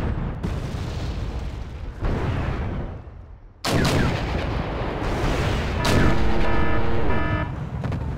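Heavy Sturm unit fire in Wargame: European Escalation, a run of loud booming shots with long rumbling decay, one abrupt blast after a brief lull, then continued firing mixed with metallic battle noise.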